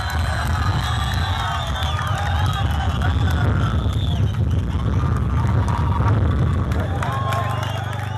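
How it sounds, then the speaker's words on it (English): Roadside crowd cheering and shouting along a steep climb at the Tour of Rwanda cycling race, a loud continuous roar of many voices with whistles and calls, steady throughout and fairly close. "A little bit of silence from my part so you can actually hear all the cheering going on as Nadav Reisberg is doing all the work"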